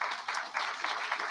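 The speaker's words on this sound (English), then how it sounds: "give them a round of applause" Luncheon guests at an industry chapter meeting applaud scholarship recipients, a continuous, moderately distant patter of many hands clapping with slight surges, no voices on top.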